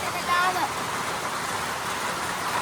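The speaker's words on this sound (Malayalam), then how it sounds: "നല്ല മഴ കേട്ടോ പെയ്തോണ്ടിരിക്കുന്നു ഇപ്പോൾ" Heavy rain falling during a cycling trip in Longwa, Nagaland, a dense steady hiss of pouring water, fairly loud and continuous, with a brief faint voice-like sound early on.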